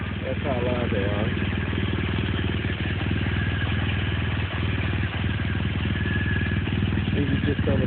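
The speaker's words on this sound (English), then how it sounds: "You can hear the engine." A 2014 BMW dual sport motorcycle idling close by, a steady, even mechanical chug and clatter that holds for several seconds while a person talks over it.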